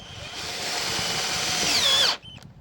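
A cheap cordless screwdriver drives a screw into thick material, its motor whining loud and close for about two seconds, straining and rising before it abruptly stops.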